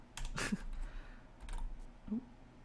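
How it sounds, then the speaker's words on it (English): Someone typing a chat message on a computer keyboard: a couple of quick bursts of close, crisp key clicks separated by a quieter pause, with faint room noise underneath. "Just typing in the old Twitch chat, multitasking while sitting here."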